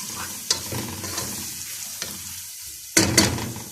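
Onion sizzling and frying in a pan, a continuous close hiss with a few sharp scraping stirs of a utensil, louder at the end.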